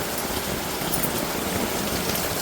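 Heavy rain falls steadily in a coastal village, a dense, loud, unbroken hiss of drops on surfaces with no voices.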